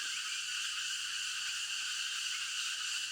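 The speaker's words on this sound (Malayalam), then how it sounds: "ചീവീടുകളിലെ നല്ല ഒക്കെ സൗണ്ടാണ് കേട്ടോ" A dense, steady drone of cicadas fills a forest at dawn, high-pitched and unbroken, with no other sounds breaking through.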